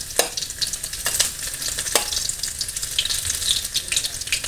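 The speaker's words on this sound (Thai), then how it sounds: "ตั้งน้ำมันใส่กระทะแล้วนะคะ เราก็เอากระเทียมทุบ ลงไปเจียวเลยนะคะ" Crushed garlic sizzling and crackling in hot oil in a wok, a steady busy fry with occasional stirring clatters, close up and fairly loud.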